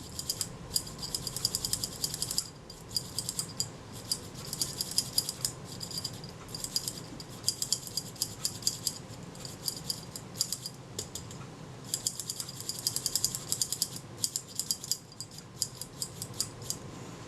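Small metal clicks and ratcheting from the front door mechanism of a Kodak Retina Ib folding camera being worked back and forth, a close, steady run of fine mechanical ticks across the whole stretch with no voices.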